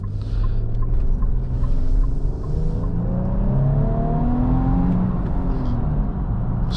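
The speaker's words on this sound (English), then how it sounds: "We'll pop it into sport mode to see if we can get a little bit of exhaust sounds on this turn here." A 2025 Infiniti QX80 with a twin-turbo V6 in sport mode gives a steady low engine drone and exhaust rumble that rises gradually in pitch as it accelerates through a turn, heard from inside the cabin with no talking.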